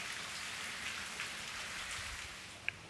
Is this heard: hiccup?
no